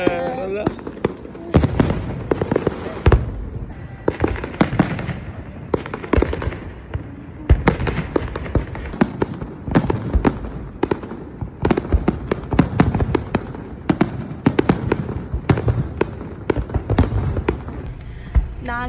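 New Year fireworks over Sydney harbour burst in a dense, continuous run of loud cracks and booms, some close and sharp, with crowd voices mixed underneath.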